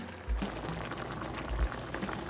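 Tteokbokki sauce with sliced fish cake and dough simmering in a pan over medium-high heat, a soft continuous bubbling with a few low pops, fairly quiet and steady.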